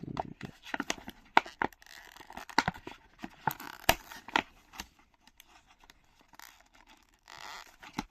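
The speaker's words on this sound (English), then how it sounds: "I probably have to cut open on the sides a bit as well" Scissors snip and crinkle through the packaging of a Mini GT model car, giving sharp, irregular close clicks and cuts with quieter rustling between them that thin out toward the end.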